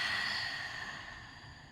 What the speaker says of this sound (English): Take a deep inhale through your nose and a long exhale through your mouth.